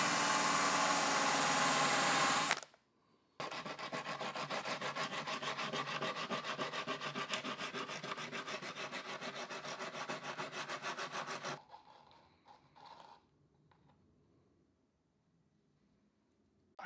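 A bare metal car body is sanded with 80-grit paper, a loud, close, rhythmic back-and-forth rasping that stops briefly, resumes for several seconds, then gives way to faint handling noises.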